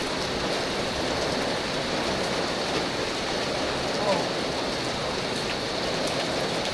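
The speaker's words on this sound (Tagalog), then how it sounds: "Paano pag di na tumigil yung ulan?" Steady rain falling outdoors on a hill or highland road trip in the Philippines, a dense, constant hiss of drops close by, with voices talking faintly under it.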